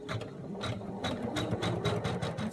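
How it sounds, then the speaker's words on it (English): Sewing machine stitching a beak outline in yellow thread on fabric, running at a steady, close mechanical hum with rapid rhythmic needle clatter throughout. "our next step is to do the outline stitch for mummy's beak"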